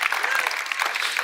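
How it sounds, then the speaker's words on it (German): Church audience at ICF Zürich breaking into a short burst of steady applause, dense clapping at moderate distance with no voices over it. "Ja, jetzt könnt ihr klatschen."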